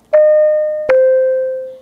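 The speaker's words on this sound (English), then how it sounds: "Here's the alert bell." Alert bell from the Avaz AAC communication app: two clean electronic ding chimes, the second following under a second later and ringing out with a smooth fading tail, loud and isolated against silence.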